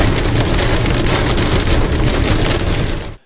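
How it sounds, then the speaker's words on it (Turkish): Heavy downpour during flooding in Denizli, a dense, loud, steady roar of rain pounding surfaces with no break, cutting off abruptly at the end. "Sağanak sele dönmüştü."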